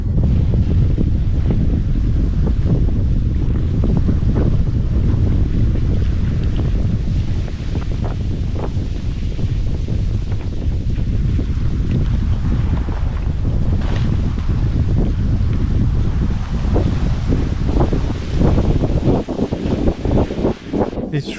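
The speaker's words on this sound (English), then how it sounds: "It's really windy." Strong, steady wind roars and buffets the microphone at a remote forest lake, a loud continuous rumble with gusts and no talking.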